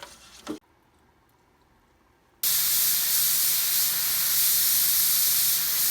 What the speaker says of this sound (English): the paint is pretty much ready to go on the spray gun and ready to be laid down